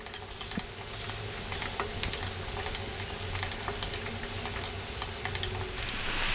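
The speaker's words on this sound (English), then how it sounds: "stir frying this around in the pan" Steady sizzling hiss from a hot pan over above-medium heat with light scraping and tapping as cabbage is stir fried, continuous and close.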